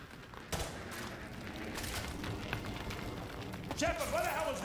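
Naval gunfire in Modern Warfare 2 sounds as a steady roar of shots and booming impacts under shouted voices, with bursts recurring across the stretch and a louder burst near the end.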